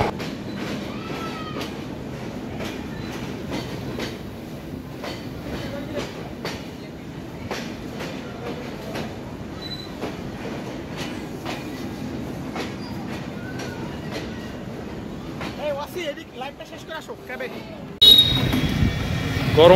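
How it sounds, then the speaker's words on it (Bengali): The 828 Rupshi Bangla Express pulls into Jessore, with a steady rumble and rhythmic wheel clatter under a crowded carriage murmur, ending in louder, brighter noise. "এই যে 828 রূপসী বাংলা এক্সপ্রেসে করে যশোরে আবার পৌঁছালাম"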